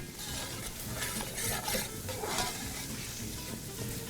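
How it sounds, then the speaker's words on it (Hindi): Turmeric and ground chilies fry in a pan with a steady, close sizzle, broken by the scrape and stir of a spoon, for a desi murgh cholay dish. No voices. "ज़रा सी हल्दी को भूनना है। हल्दी को बहुत ज़्यादा भूनना नहीं होता"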